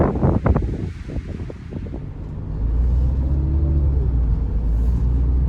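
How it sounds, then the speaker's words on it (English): Strong wind buffets the microphone with low rumbling gusts, growing heavier and steadier in the second half, with a few brief knocks early on. "Nice and windy."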